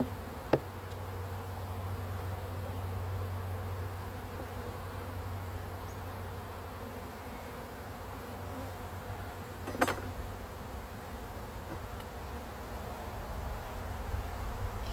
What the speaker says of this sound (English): A lot of bees on this next one.